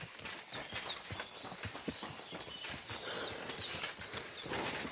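Rhythmic clip-clop of horse hooves trotting in the video game Kingdom Come: Deliverance II, fairly quiet, with faint whinny-like squeals and light background noise.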